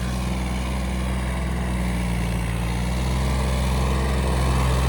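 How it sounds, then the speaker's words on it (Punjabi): A Swaraj 855 tractor engine struggling under load, droning loud and steady, a low rumbling hum with a constant pitch and no pauses. "ਟਰੈਕਟਰ ਖੁੱਲ ਨਹੀਂ ਰਿਹਾ ਬਾਈ ਜ਼ੋਰ ਨਹੀਂ ਮਾਰ ਰਿਹਾ ਟਰੈਕਟਰ"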